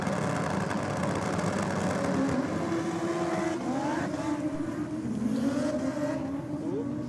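B2R Honda Civic race car at a drag strip, its engine droning loud and steady with rising and falling pitch sweeps as it revs, over constant roaring background noise.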